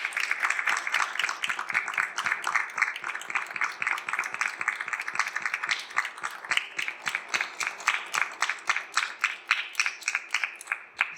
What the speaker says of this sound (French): Alors, on les applaudit très fort.